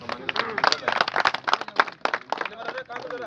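Scattered hand claps from a crowd at a village cricket match prize ceremony in Bargarh, Odisha, uneven and fairly close, mixed with background chatter and voices.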